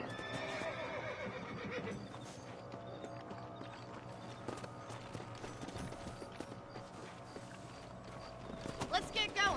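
Horse gallops and neighs in Red Dead Redemption, hooves clip-clopping steadily beneath a music score and voices talking, with a loud burst of sound near the end.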